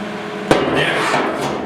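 A sharp metallic knock, then scraping pull on a bar hooked to a bolt welded onto a dented steel box side of a 1972 Ford short box 4x4 pickup, close and loud.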